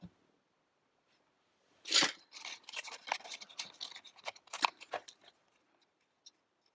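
Scissors snip through stamped paper card pieces in a run of crisp close cuts and rustles lasting a few seconds, set against near silence with no talking.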